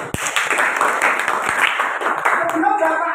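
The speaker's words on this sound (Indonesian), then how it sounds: "kita beri tepuk tangan untuk kita semua." A class of ninth-grade students claps together during a civics lesson, with dense, fairly close hand claps mixed with chatter and voices throughout.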